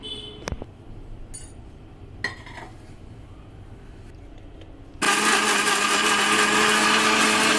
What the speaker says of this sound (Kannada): ಅದೇ ಪಕೋಡನ ಮಿಕ್ಸಿಯಲ್ಲಿ ಹಾಕಿ 1 ರೌಂಡ್ ಮಾಡ್ಕೊಂಡಿದ್ದೀನಿ